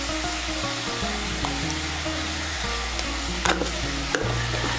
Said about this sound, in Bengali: এর মধ্যে দিয়ে দিচ্ছি 1 ছোট চামচ হলুদের গুঁড়ো, 2 ছোট চামচ লঙ্কার গুঁড়ো, 2 ছোট চামচ জিরের গুঁড়ো।